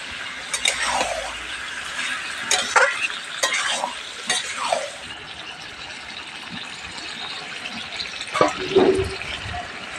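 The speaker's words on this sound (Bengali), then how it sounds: "আবারও নাড়াচাড়া দিয়ে দেবো" Duck meat bhuna curry is stirred in a pan, with repeated scrapes and clacks of the spoon over a steady sizzle of frying.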